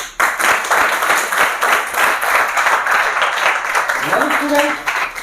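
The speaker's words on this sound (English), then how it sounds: "please give a big round of applause to Sailesh" An audience breaks into loud, dense applause for a guest speaker at a talk, sustained clapping filling the room, with a voice rising near the end.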